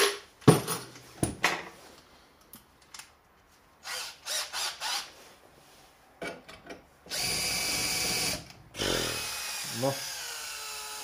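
A power drill bores with a bit in a workshop, heard in short loud bursts and whirs among clanks and handling knocks, with a longer sustained run near the end.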